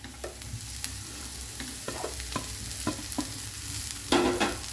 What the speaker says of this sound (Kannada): ಇದನ್ನು ಜಸ್ಟ್ ಫ್ರೈ ಮಾಡುವ.